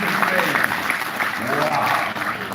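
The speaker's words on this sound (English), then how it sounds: "ladies and gentlemen, please give her a round of applause" Applause rises from the audience at an expo as a presenter is welcomed on stage, a steady dense wash of clapping that carries on for the whole stretch, with voices mixed in.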